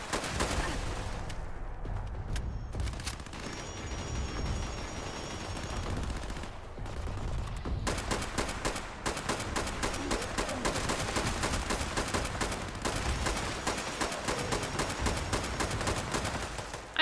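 Video game gunfire rattles in rapid, dense volleys, with sparse shots early on, then near-continuous loud automatic fire through the second half.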